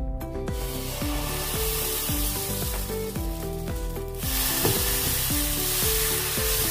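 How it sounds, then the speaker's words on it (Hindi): Batter poured into a hot pan while making a vrat fasting recipe, hissing into a loud, steady sizzle close by. Rhythmic background music plays throughout, and there is no talking. "अभी अपना बैटर डालेंगे इसमें"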